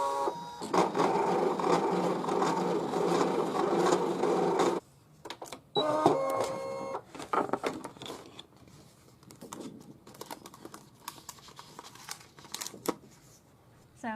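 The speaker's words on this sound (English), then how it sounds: "we just want to choose the cut function to cut that out" A Brother DC200 DesignNCut home cutting machine whirs steadily as it cuts yellow cardstock on its mat, a close mechanical drone that stops abruptly and gives way to scattered clicks and paper rustles.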